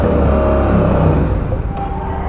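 A car engine held at about 4,000 rpm roars loud and close, then its note wavers and briefly sags as it starts to die, apparently starved by a clogged fuel line.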